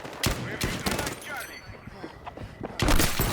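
Rapid video game gunfire in Battlefield 6 from a War Wolf L85A3 rifle crackles in several short bursts and single shots, with a player talking over parts of it.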